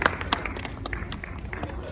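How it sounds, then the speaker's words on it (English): Audience applause at a meet-and-greet with a musician, scattered sharp claps under a steady crowd patter, moderately close, with a voice talking over it. "let's keep this applause running through"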